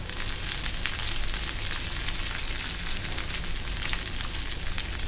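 Curry leaves and green chilli tempering in hot oil for a Malvani mango raita, giving a loud, dense, continuous crackling sizzle close up with no voices.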